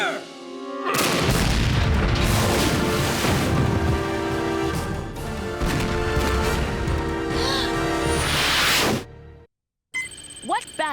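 Loud sustained cannon fire with heavy booming blasts rolls on for several seconds in a Civil War ironclad battle between the Merrimack and the Monitor, then cuts off abruptly.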